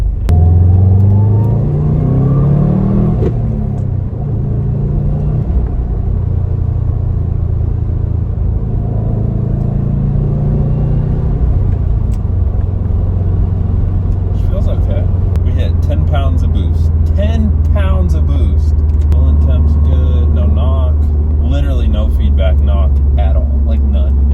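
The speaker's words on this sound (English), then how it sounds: "Let's do a full throttle third gear. See how she rips." Subaru STI engine rumbling hard under full throttle in third gear, heard from inside the car as a loud, continuous drone that rises in pitch, with people talking over it.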